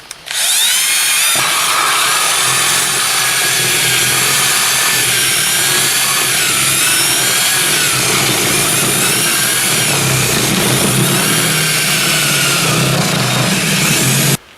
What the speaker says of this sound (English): Drill these holes out.